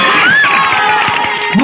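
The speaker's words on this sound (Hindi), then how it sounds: "वाह, जोरदार ताली हो जाए।" A crowd at an open stage event cheers and claps, a dense, loud wash of voices with rhythmic hand-claps running steadily through the short clip.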